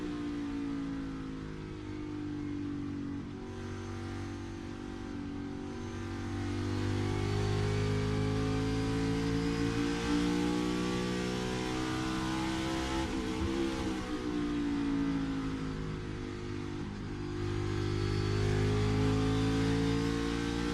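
A NASCAR Cup Series race car runs on track at Phoenix Raceway during a championship race. Its engine roars loudly and continuously for the whole stretch, the pitch swelling and dipping as it works through the laps.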